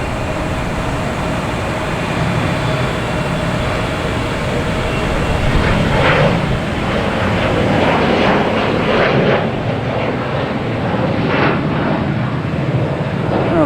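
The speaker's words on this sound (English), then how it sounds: "And American Airlines E175, heading to Reagan." An American Airlines Embraer E175 jet airliner at Boston Logan Airport gives off a loud, steady engine roar that fills the whole stretch without a break, with a faint whine riding on top.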